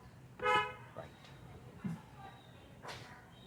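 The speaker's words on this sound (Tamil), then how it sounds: "one more horn" A short car horn toot sounds once nearby, followed by quieter traffic noise and a second faint honk.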